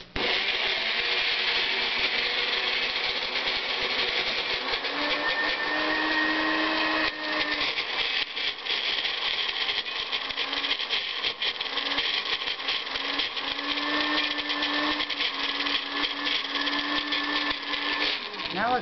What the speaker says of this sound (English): Then we blend that up in our personal blender.